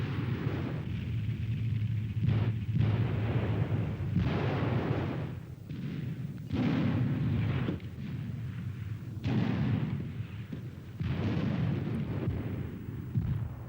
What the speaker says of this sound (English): The effect of the Panzer Schreck is clearly seen here, the backblast being quite pronounced.